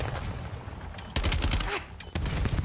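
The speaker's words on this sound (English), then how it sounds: "And Real, hearing all this extra gunfire, is going to see if he can peek and find one" Rapid bursts of gunfire crackle from Black Ops 7, volleys of shots overlapping and pausing briefly before more firing breaks out.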